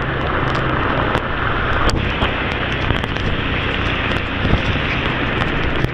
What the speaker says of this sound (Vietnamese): tại thành phố nha trang mưa rất là to